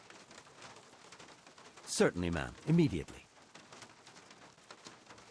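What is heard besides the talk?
rain falling, from the video game Syberia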